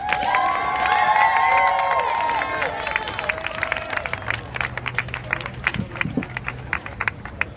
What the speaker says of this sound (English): So let's have a huge round of applause for Pele.